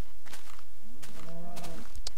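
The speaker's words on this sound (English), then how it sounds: "That cow scared me." A Minecraft cow lets out a low, drawn-out moo lasting about a second, fairly close and clear over quiet game ambience, with no talking.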